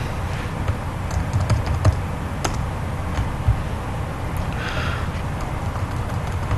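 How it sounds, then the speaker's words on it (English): Someone types a program name on a computer keyboard under a Linux XFCE desktop: a run of irregular, close key clicks with a few louder taps over a faint steady room hiss. "So I just type in the name of the program"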